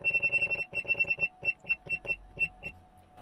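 A POW-HVM1.5K-24V inverter sounds its alarm as a fast run of sharp, high electronic beeps that slows into spaced beeps and then stops as it is muted, fairly quiet and heard alone.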